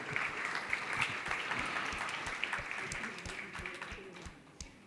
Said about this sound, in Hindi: आपने सिर्फ तालियां बजाई